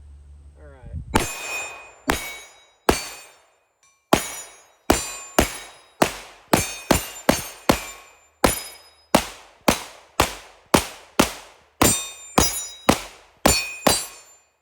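A Glock pistol fires a string of sharp, loud gunshots, about twenty-five reports in uneven succession, some in quick pairs and short bursts, each ringing out briefly with no talking.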